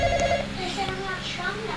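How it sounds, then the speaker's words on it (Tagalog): A telephone rings briefly in the Roblox video game, a short warbling tone near the start, mostly covered by continuous chatty talking. "Uy, pick up the phone."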